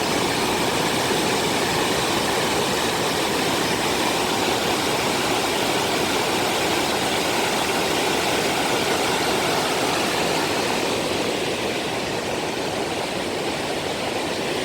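The Tamor river runs in heavy spate near its headwaters, a loud, dense, unbroken roar of rushing water that holds steady throughout, close and with no other sounds.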